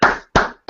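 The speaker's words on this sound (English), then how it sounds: "I definitely want to give that man a clap of the hands" Two sharp, close hand claps spaced about a third of a second apart, each with a brief ringing decay, and the start of a third at the very end; loud and alone with no talk.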